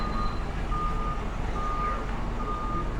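A fish truck reversing on a street in Avalon on Catalina Island, its backup alarm sounding a steady series of evenly spaced high beeps over a loud diesel engine idle, with no voices.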